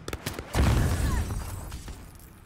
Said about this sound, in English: It's a fucking grenade!